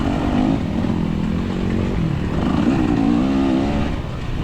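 A four-stroke motorcycle engine closes in from behind during a motorcycle race at Oak Ridge, its steady droning note rising and wavering in pitch as it nears, loud and continuous under the rider's own engine noise.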